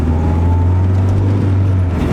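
A Honda Civic EK with a swapped JDM B20B engine driving at a steady, even pitch, the engine hum loud and close inside the car, with no speech.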